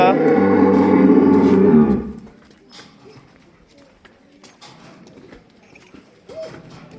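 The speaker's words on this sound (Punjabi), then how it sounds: "ਇਹ ਵੀ ਸੋਹਣੀ ਵੈੜ ਆ" Heifer cattle on a farm: a loud low moo opens, followed by faint hoof shuffles and quiet farmyard movement in the background.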